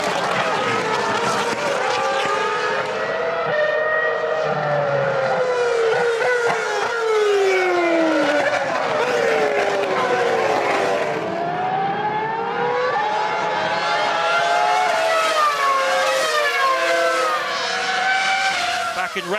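Formula 1 cars at full racing speed at Imola during the 2006 San Marino Grand Prix, just after a safety car period, their high-pitched engines loud and continuous, pitch sweeping up and down as several cars pass close by.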